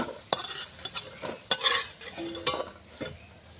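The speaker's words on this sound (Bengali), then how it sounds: "এখানে বড়াটা ভাজা হচ্ছে" Lentil fritters (dal bora) fry in oil while a spatula stirs and scrapes the pan, with sharp clinks and scrapes breaking through a soft sizzle, close and without talk.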